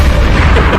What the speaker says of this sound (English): I added the gunshot.